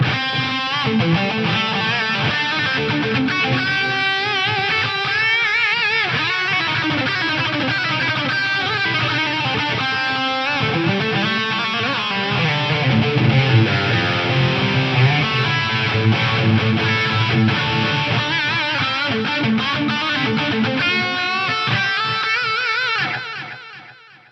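Distorted electric guitar played through a Roland SRV 2000 reverb and SDE 1000 delay, with 375 ms of delay running in parallel to the reverb, sustained chords and notes ringing on continuously for over twenty seconds before fading.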